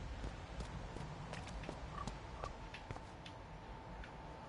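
Horse hooves clop in the video game Life is Strange, a scattered run of soft, irregular clip-clops over steady ambient background noise, fairly faint and without talk.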